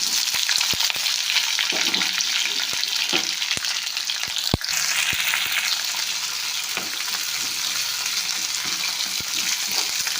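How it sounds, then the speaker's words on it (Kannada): Chopped onion and fresh curry leaves frying in hot oil for a North Karnataka stuffed brinjal dish, a steady dense sizzle with occasional stirring clicks and pops, close and continuous with no voices. "ಸ್ವಲ್ಪ ಉಳ್ಳಾಗಡ್ಡೆ ಕೆಂಪು ಆಗತ್ತನ ಫ್ರೈ ಮಾಡ್ತಾರೆ"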